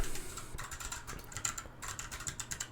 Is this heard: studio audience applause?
no